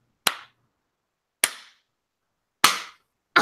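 Three sharp, isolated hand claps spaced about a second apart on a countdown, each a crisp single smack with a quick decay and silence between.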